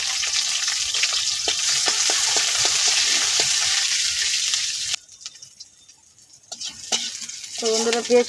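Green chillies fry in a little oil, with a loud, steady sizzle and repeated spatula taps and scrapes for about five seconds. The sizzle then cuts to near quiet, with faint clatters and a brief tonal sound at the end.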